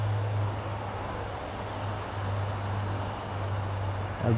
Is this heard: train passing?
yes